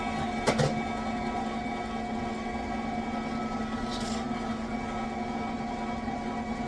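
A motorized stuffer pushes venison snack-stick meat into collagen casing, giving a steady, even mechanical hum with a faint tonal whine and a brief click near the start, with no voices.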